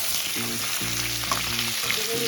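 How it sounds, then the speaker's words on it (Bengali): Cubed potatoes and kohlrabi frying in an oiled pan with onions for a rohu fish curry, a steady close sizzle broken by scraping stirs of the spatula, with no talking. "এটা আলু আর ওলকপিটা দিয়ে দিলাম। একটু নাড়াচাড়া করে"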